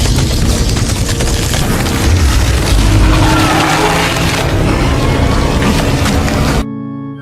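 A bomb explosion in a Predator Badlands film scene, heard as a loud, sustained, rumbling boom with dense low roar and debris noise filling the whole stretch before cutting off abruptly near the end.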